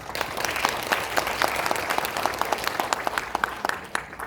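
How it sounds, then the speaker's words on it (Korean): An audience at an agricultural policy briefing in a cultural hall gives a vigorous round of applause, with dense clapping and distinct individual claps throughout about four seconds. "이분들에게 힘차게 박수 한번 부탁드립니다."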